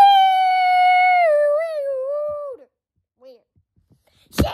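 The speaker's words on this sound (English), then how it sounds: "So, my dog, Bean Acton." A dog howls in a long, sustained, wavering tone that bends downward and fades out, followed by a brief quiet pause and a short sharp noise at the end.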